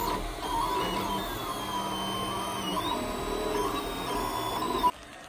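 Monoprice Maker Ultimate (Duplicator 6) 3D printer at work, its stepper motors whining and shifting pitch as the head moves over a constant mechanical hum, close and steady until a click near the end.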